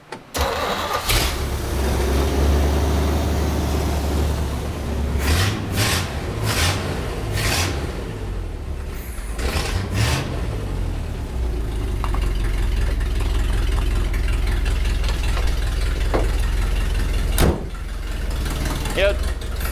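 An old car engine, revived after sitting for 40 years, idles with its ignition timing freshly set, a steady low rumble broken by several loud revving bursts, while voices talk over it.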